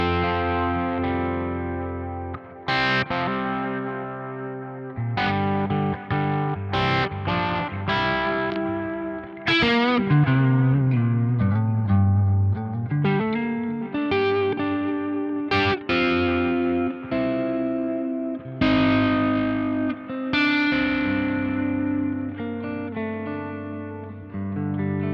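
A guitar played through the analog delay of a Quad Cortex processor set to ping pong mode, with the feedback raised slightly and the modulation rate lowered. It sounds as a steady, distorted, chorus-tinged passage with repeating echoes trailing the notes throughout.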